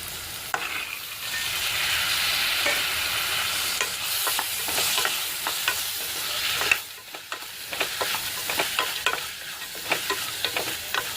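Raw cowpeas tumble into a sizzling pan of brinjal curry and get stirred, with frying hiss underneath and a run of scraping spoon strokes and knocks against the pan.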